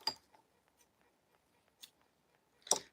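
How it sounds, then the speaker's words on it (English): Scissors cut through material in a quiet room, giving a few faint, sharp snips spaced far apart with near-silence between them. "Let's keep on cutting."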